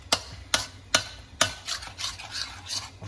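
A spoon stirs a bakso aci mixture in a pot, giving four sharp, evenly spaced scrapes and clinks followed by softer, quicker stirring strokes, close and clear.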